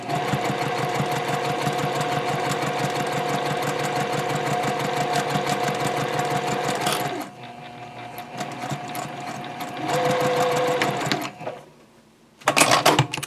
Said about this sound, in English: we're going to sew the loop simply by edge stitching about 1/8 of an inch away from each long edge